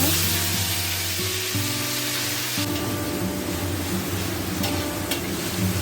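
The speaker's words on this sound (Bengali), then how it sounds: "একটু ভাজা ভাজা করে নেব আদা রসুন কাঁচা লঙ্কা বাটাটা" A loud, continuous hiss of ginger, garlic and green chili paste frying in hot oil, with a low mechanical hum underneath and occasional clinks.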